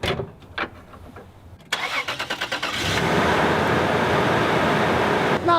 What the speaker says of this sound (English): Listen to the engine. Check it out.